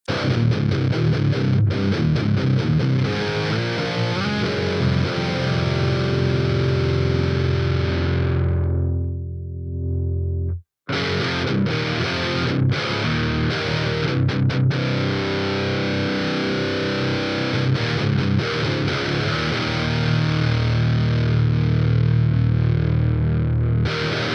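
Heavily distorted electric guitar played through a Vox ToneLab EX with the gain cranked, thick sustained chords ringing loudly, briefly dropping out near the middle before resuming.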